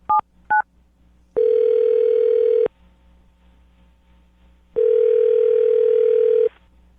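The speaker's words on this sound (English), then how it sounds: "I'm going to dial her phone number right now" Two quick phone keypad tones are followed by two long, loud ringing tones with a pause between them, as a call connects.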